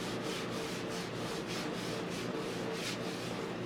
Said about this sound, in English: you have to come back and sand it like with 320.